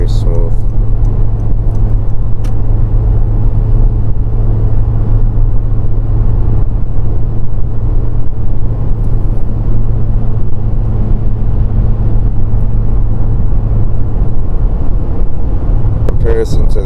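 A 2025 Honda CR-V driving at night, steady low engine and road rumble heard from inside the cabin, constant and loud, with someone talking over it.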